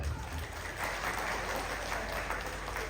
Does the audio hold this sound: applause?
yes